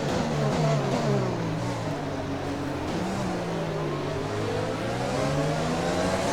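A Formula 1 race car engine in the F1 2020 game drones steadily at high revs through the Montreal Grand Prix, with continuous loud engine tone and pitch shifts as it accelerates and shifts gears.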